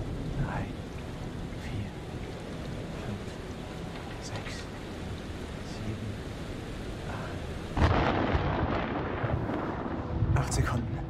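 Thunder rumbles through steady heavy rain during a storm at sea in the horror game Men of Medan, swelling louder near the end, with voices talking over it.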